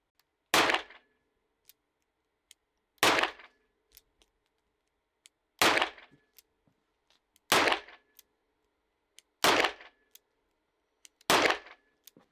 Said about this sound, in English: from a revolver in 357, shooting full house 357 Magnum hollow points